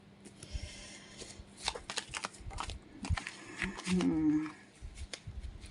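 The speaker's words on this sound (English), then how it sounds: "I want to pick up some more cards here." Tarot cards are shuffled and picked up close by, with several quick papery riffles and flicks and a fuller rustle near the end. A faint background hum runs underneath.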